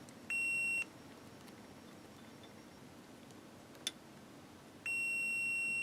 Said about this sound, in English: Got my beeper here.